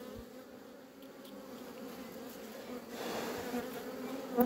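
Bees buzz steadily around yellow dandelions in a field near hives, a soft continuous drone at moderate distance that swells slightly toward the end.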